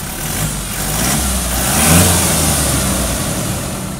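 A 2020 Toyota Fortuner TRD facelift with a 2.4 turbo diesel runs close by. The engine idles with a low rumble, then swells into a revving rise around the middle and settles back to a steady run, with no talking.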